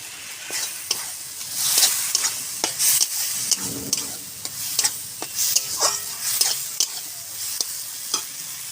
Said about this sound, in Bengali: এবারে আমি কাজু দিয়ে দেবো, কিচমিচ দিয়ে দেবো